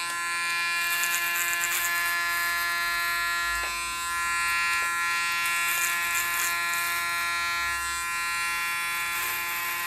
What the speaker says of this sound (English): Put a comb on my clipper.